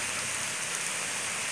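Steady rain pours down outdoors near a wooded park area, a dense, even hiss of drops filling the whole moment with no voices.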